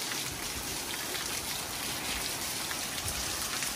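Steady rain falls on a rainy day in California, a dense, continuous hiss of drops spattering on surfaces close by, even and unbroken throughout with no voices.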